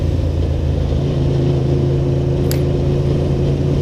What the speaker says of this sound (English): I quite like the sound of this bike when you're sort of just idling through